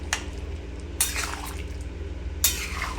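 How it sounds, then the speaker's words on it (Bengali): Jackfruit curry stirred in a pot with a utensil: three short scraping, sloshing strokes close by, spaced about a second apart, over a steady low hum and with no talking. "দিয়ে ভালো করে নাড়াচাড়া করে আমি একটা চাপা ঢাকা দিয়ে দেব"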